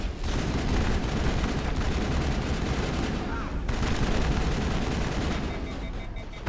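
Sustained gunfire in the sci-fi shooter Mass Effect, a dense, continuous barrage of shots and impacts that stays loud and close for the whole stretch, with no pauses.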